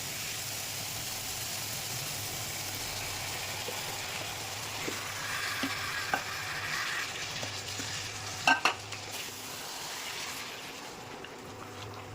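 Marinated mutton goes into biryani masala already frying in oil, giving a steady broadband sizzle with stirring scrapes and a few sharp clatters near the end, close and without talk.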